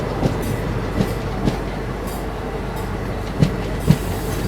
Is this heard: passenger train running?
yes